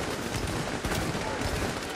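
A few sniper rifle shots in The Division go off as sharp cracks buried in a dense, noisy wash of game audio.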